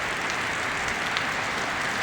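Steady broadband hiss of rain falling continuously in Banda Aceh, with a few brief louder patters on top; no voices.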